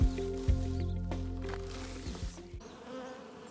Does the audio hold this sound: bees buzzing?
yes